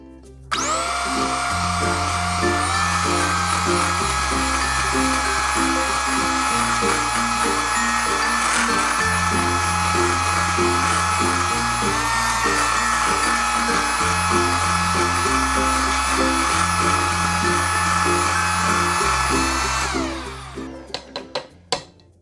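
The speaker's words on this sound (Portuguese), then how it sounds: "Eu já bati a ganache, agora eu vou colocar um pouquinho de rosa. 2 gotinhas. E vou bater." An electric mixer whirs steadily for about twenty seconds, beating ganache frosting tinted with a couple of drops of pink coloring, then winds down and stops with a few small clatters near the end.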